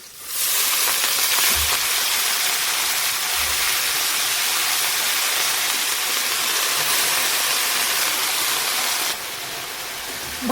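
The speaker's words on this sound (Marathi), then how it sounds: "आता बघा याच्यामध्ये धुवून घेतलेली भाजी आपण घालूया." Washed rice-plant greens drop into hot oil tempered with garlic and green chillies, bursting into a loud, dense sizzle that holds steadily before easing slightly near the end, with no talking.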